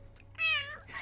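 A pet cat gives a single short, clear meow close by, rising and falling in pitch, followed by a faint softer sound in a quiet room.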